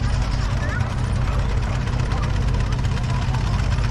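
Alchin 3-inch miniature steam traction engine, built in 2018, passing a commentary box at a steam rally in Sheffield; a steady low mechanical chugging rumble, loud and continuous, with crowd murmur around it.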